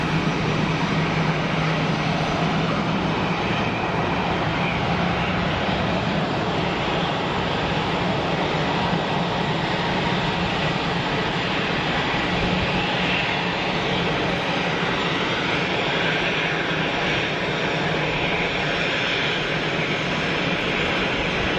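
A Montreal-bound airliner at Geneva Airport lining up on runway 04, its engines a continuous broad roaring drone held at a steady, fairly loud level for over twenty seconds, with no talk.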